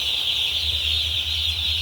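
Newly delivered broiler chicks cheep in a dense, continuous high chorus, close and steady, with a low hum underneath and no talk.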